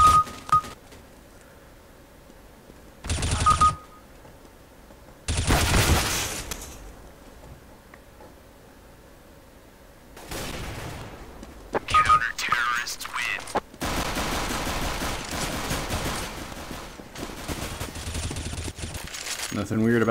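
Video-game gunfire on the Overwatch training range comes in short controlled bursts, loud, sharp clusters of shots separated by quiet gaps, with brief electronic beeps between them.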